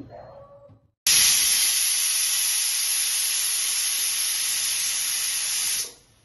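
A pressure cooker on full heat lets out a loud, steady hiss of escaping steam for nearly five seconds after a brief moment of faint background noise, then cuts off abruptly.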